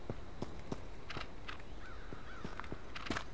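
Crows caw repeatedly at a distance in the H1Z1 video game, with scattered harsh calls over a steady ambient background.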